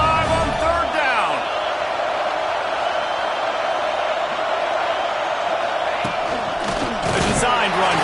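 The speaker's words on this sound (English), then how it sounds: "The Buckeye crowd alive on 3rd down" Ohio State Buckeye football stadium crowd roaring on a third down during a game against Miami, a steady wash of cheering and whooping, with a commentator's voice running over it.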